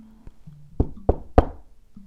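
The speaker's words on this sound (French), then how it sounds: "elle entendit quelqu'un frapper à la porte" Several knocks strike a door, a faint tap first, then three loud, evenly spaced thuds, close and alone over a quiet low hum.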